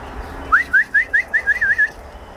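A bird gives a rapid series of about nine short, bright rising whistled calls, clear and close, over a faint background hum.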